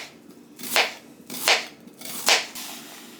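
Knife chopping half an onion, left over from an earlier opening, on a board in a home vegan kitchen: three distinct, evenly spaced cuts, close and fairly crisp, with no talking.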